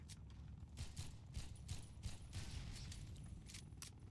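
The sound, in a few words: explosions in a video game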